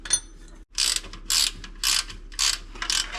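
A 9/16 ratchet wrench clicks in five quick bursts while loosening a bolt on a 1969 Charger, each burst a close, crisp rapid ratcheting, with short pauses between them.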